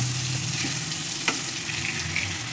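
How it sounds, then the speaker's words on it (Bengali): Eggplant slices coated in salt, turmeric and chili powder fry in the oil left from frying oily fish, a steady close sizzle and crackle with a faint stir or clink midway and no talking. "আমি লাল লাল করে এটা ভেজে নিচ্ছি।"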